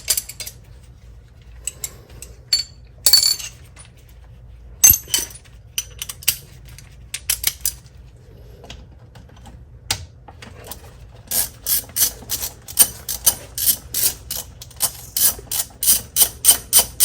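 Two screws backed out on a 2007 Porsche 997 Turbo during spark plug and coil work, heard as a series of quick ratcheting clicks, scattered at first then a steady rapid run of close, sharp ticks near the end.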